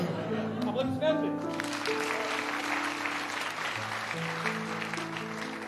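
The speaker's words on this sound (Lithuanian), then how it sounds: "Aplodismentai." Audience applause for a bardic duo at a Lithuanian bard-song show, a steady wash of clapping from a crowd filling the room, with musical tones and a voice sounding faintly underneath.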